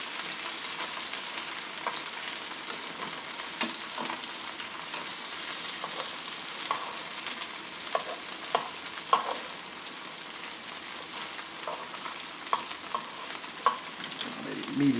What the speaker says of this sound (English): I'm going to put some butter in here now.